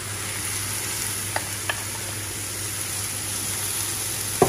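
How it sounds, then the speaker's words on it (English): Plain lamb mince frying in a pan for lamb samosas gives a steady, loud sizzle throughout, broken by a few faint clinks. "I'm adding the lamb mince now. This is plain lamb mince"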